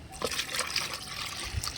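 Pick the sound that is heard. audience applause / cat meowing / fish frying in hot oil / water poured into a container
water poured into a container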